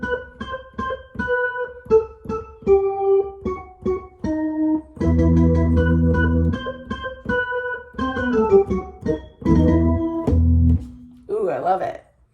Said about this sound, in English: Some churches actually use an organ that sounds like this too, an electric organ.